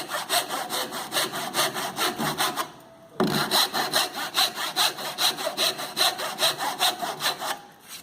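A hand saw cuts relief kerfs in wood for a cross halving joint, a close, loud rhythmic rasp of quick even strokes, pausing briefly before a second cut resumes the same steady back-and-forth.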